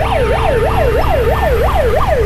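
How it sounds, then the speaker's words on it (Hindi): An ambulance stuck in Delhi traffic sounds its siren in a loud, rapidly repeating wailing sweep, close by, with traffic noise underneath. "एम्बुलेंस हॉर्न मार रही है, बट कोई भी जो है हटके राजी नहीं है"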